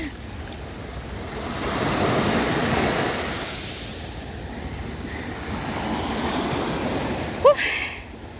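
Ocean surf rolls onto the shore in slow, broad washes of noise that swell and recede, steady and close with some wind, and a short bump near the end.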